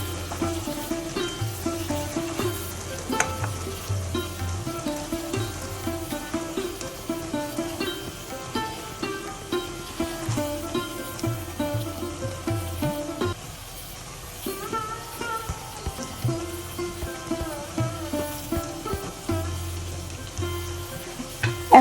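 Shredded cabbage hits a pan of frying shrimp and spices, giving a steady, moderately quiet sizzle with occasional stirring scrapes that briefly dip then resume.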